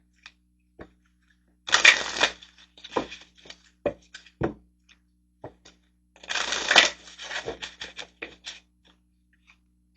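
Animal oracle cards being shuffled and drawn, with two bursts of riffling card flutter separated by sharp taps and snaps as cards are handled, close by in an otherwise quiet room.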